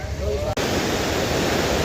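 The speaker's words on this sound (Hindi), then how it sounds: "तो अभी हम आए हैं अलकनंदा नदी के बिल्कुल पास में" Alaknanda river rushing nearby after rain, a loud broadband roar of flowing water that fills the scene continuously, with a brief dropout and a faint tonal sound early on.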